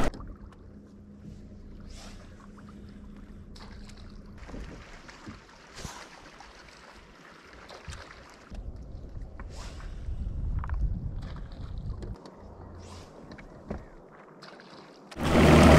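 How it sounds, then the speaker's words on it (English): Outboard motor idling on a boat on a lake, a low steady hum with water lapping and wind noise, occasional knocks and louder splashing toward the end. "So I got the big motor going. I'm just idling around"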